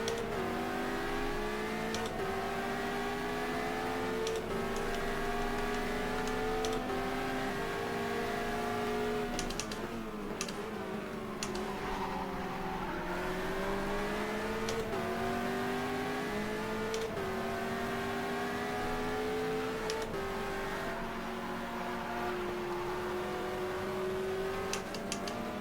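Race car engines in the GTR2 sim racing game, with a Ferrari and an open-cockpit Gibson LMP2 at a WEC 2015 Bahrain round, drone steadily and rise in pitch through repeated gear shifts, with an engine note sustained throughout.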